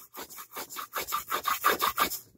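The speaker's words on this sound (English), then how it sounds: "I'm using the side of my crayon, and I'm going to rub, rub, rub." The side of a crayon rubbing over a textured surface makes about ten rhythmic scratchy strokes, close and fairly loud, each a dry rasp, with no speech.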